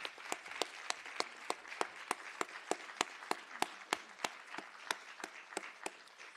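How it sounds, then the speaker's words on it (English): At a social justice symposium, the room applauds SJA members with a steady, evenly spaced beat of sharp claps over a softer wash of scattered clapping, continuous throughout. "Round of applause."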